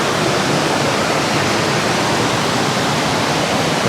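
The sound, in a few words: waterfall at Palakkayam Thattu, Kannur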